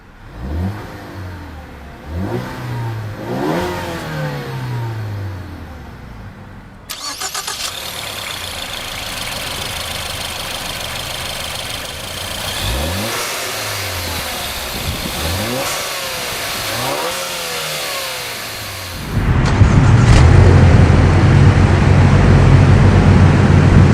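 A 2013 Ford Fusion Titanium with the 2.0-litre turbo engine starts by push button and settles into a smooth idle. Several loud, close revs rise and fall, then a harsher, louder roar sets in at the end.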